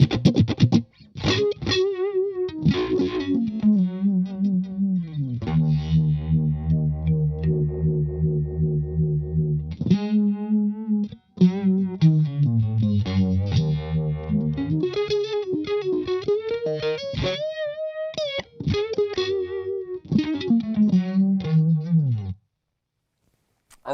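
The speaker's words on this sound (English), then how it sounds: "I've got the Deja Vibe by Full Tone on" Fender Stratocaster electric guitar played through a Fulltone Deja Vibe pedal into a Marshall amp head, giving a warm, swirling, mildly overdriven tone; steady chords and melodic lines ring out alone for about twenty seconds before stopping.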